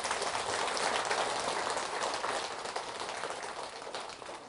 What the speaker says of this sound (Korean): 감사의 박수 한번 주시 바랍니다